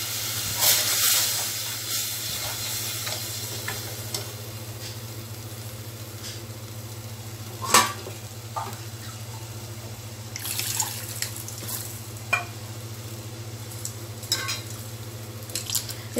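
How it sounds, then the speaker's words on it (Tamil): Tamarind water being poured into a pot of fish curry, soft splashing and trickling over a steady low hum, with a few light clinks. "புளியை கரைச்சிட்டு இந்த மாதிரி ஊற்றிக்கோங்க."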